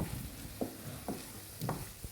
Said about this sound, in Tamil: இதை சேர்த்துட்டு நல்லா ஒரு 30 செகண்ட்ஸ்க்கு வதக்கி விடுங்க